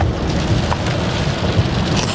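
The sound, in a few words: rain falling during a road trip drive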